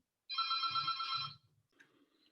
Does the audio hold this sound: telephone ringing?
yes